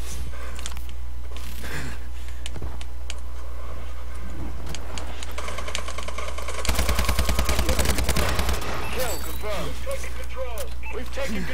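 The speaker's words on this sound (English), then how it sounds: "Where am I getting shot from?" Rapid automatic gunfire from Call of Duty: Advanced Warfare erupts as a loud, close, tightly spaced burst lasting a couple of seconds midway through, set against a steady bed of game noise and scattered mechanical clicks.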